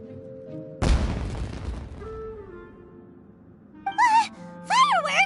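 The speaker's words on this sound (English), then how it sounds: "Was that an explosion? It sounded like fireworks." A deep booming burst from a fireworks explosion in the video game Genshin Impact, loud and close, fading into a low rumble with a sustained tone under it, followed by short bright chiming game sounds.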